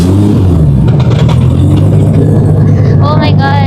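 A Nissan R34 GTR V-Spec accelerates on a street during freeway racing, its engine a loud steady drone with rising whine near the end, heavy road noise throughout and people talking over it.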